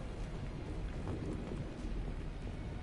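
Steady rain falling outside an apartment in the video game Mass Effect 2, a constant soft wash of drops with a low rumbling undertone, even and unbroken throughout.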